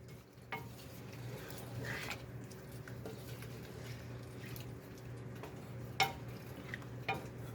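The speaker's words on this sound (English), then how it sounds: "so now we will stir this all up" Spoon stirring a cheesy beef pasta mixture with cheddar cheese in a pan, a soft, steady squishing scrape under a low background hum, with a few sharper knocks.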